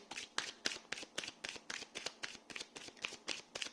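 Tarot cards are shuffled and riffled in a quick, steady rhythm of crisp flutters, close and clear, about a dozen sharp bursts with no talk over them.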